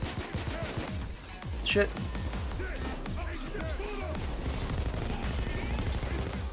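Rapid gunfire from a weapon with heavy recoil in the heist shooter Payday 2 rattles on through the clip in dense bursts, with a player talking and swearing over it.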